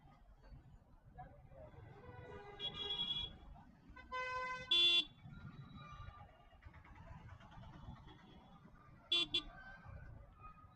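Road traffic rumbles steadily while car horns honk several times, a couple of longer blasts followed later by a short double toot.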